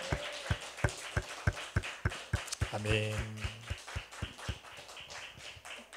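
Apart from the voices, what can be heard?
applause in church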